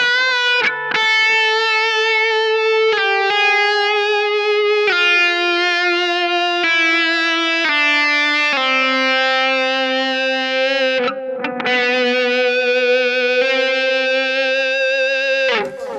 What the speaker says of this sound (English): that's just adding a little bit of delay